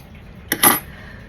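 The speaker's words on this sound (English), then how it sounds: "Oh, they're not good scissors." Two quick, crisp metallic snips in close succession, like scissors cutting through fabric, in an otherwise quiet room.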